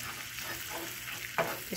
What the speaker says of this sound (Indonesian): So we stir fry it until you can smell the good smell from the garlic